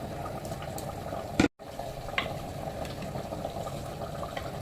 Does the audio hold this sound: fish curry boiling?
yes